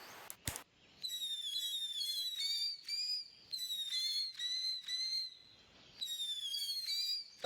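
Shotgun crackling firework whistling at a Fourth of July display: after a sharp pop, several shrill, wavering whistles repeat in bursts with short gaps, fairly faint and heard without talking.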